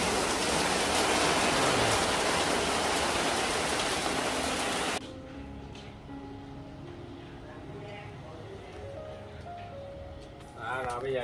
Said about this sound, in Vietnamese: nhưng mà mưa quá em đang đậy lại luôn nè